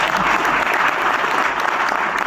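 An audience at a motivational speech claps steadily and loudly throughout, a dense continuous wash of applause with no pause and no voices on top.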